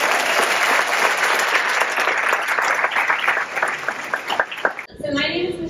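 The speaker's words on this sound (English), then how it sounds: "Let's give him another round of applause." Loud, sustained applause from a conference audience at a pet sitter event, dense and close, cutting off abruptly near the end as a voice begins.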